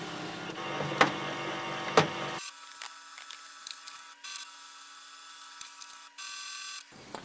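An HP OfficeJet 8013 printer scanning pages fed from its document feeder, quiet mechanical whirring and clicks with two sharp clunks early, then a steady motor drone with occasional ticks before it stops.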